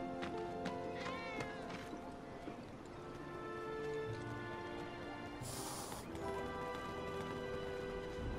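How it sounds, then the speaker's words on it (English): A cat meows repeatedly amid busy game ambience in Final Fantasy VII Remake, with soft footsteps and background music, faint and somewhat buried in the mix. "I'm trying to get a cat to come out."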